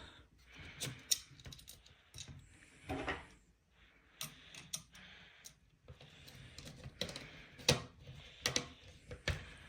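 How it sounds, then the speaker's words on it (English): A screw is driven into a GTX 1650 graphics card in a crisscross pattern on a desk, producing quiet, intermittent clicks and small metallic ticks in irregular bursts. "Now I'm going to screw this one in. And we're going to do the crisscross pattern this time to apply an equal force."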